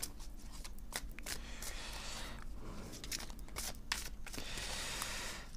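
Tarot cards riffled and shuffled by hand in quick repeated bursts, crisp papery flicks and slides close by, with brief pauses as cards are drawn.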